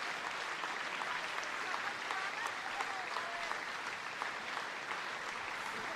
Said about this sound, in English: The fans giving her a warm round of applause and a bit of a send-off.